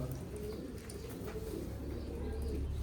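Pigeons, including the young of a blue pigeon, coo softly in low repeated calls amid faint background noise and a murmur of nearby voices.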